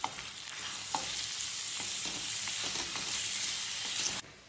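Soaked chana dal being stirred in a cooking pot, a soft sizzling hiss throughout with a few quiet scraping and tapping knocks from the spoon, close and low in level.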